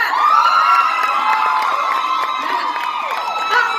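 A large crowd cheers and screams loudly and continuously, with high-pitched shrieks and whoops blending into a sustained roar.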